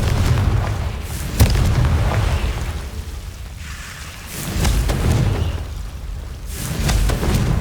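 Confringo fire spell blasts in Hogwarts Legacy, three heavy booming explosions rolling in waves, loud and full, each swelling and fading into a low rumble.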